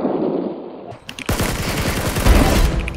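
Rapid automatic gunfire from a shooting video game bursts in after a brief lull, a dense, loud rattle of shots continuing to the end with no talking.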